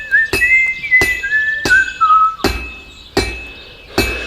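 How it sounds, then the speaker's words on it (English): A blacksmith character in Kingdom Come Deliverance 2 whistles a wavering tune while striking metal with a hammer; loud, sharp hammer blows land roughly every 0.7 seconds, and the whistling fades out partway through. "Hey, he's whistling."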